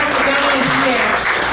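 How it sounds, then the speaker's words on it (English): Audience applause for a middle school orchestra at a school film night, a brief burst of steady clapping with a voice speaking over it. "So let's give a round of applause to our wonderful middle school orchestra"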